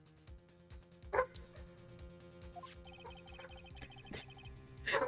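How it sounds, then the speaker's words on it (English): A dog barks somewhere inside a house, a few short yips and barks rising above a steady low hum and faint game sounds, fairly distant and not loud. "I think my mic is picking up the dog barking, at least on the stream."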